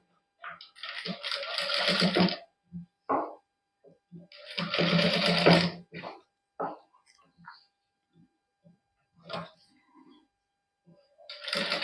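A sewing machine stitches the neckline of a matching suit in several rapid bursts of a few seconds each, separated by quiet gaps, with someone talking softly between the runs.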